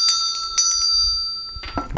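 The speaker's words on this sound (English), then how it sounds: "We're going to ring the bell," A small metal bell struck repeatedly in quick succession, each strike leaving a long, bright ringing tone that hangs and fades, then rung again near the end; close and clear, no talk.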